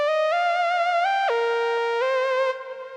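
A bright, synth-like counter melody from a jazzy pop beat plays alone, a smooth sustained line gliding between a few held notes with a slight vibrato and fading softly at the end.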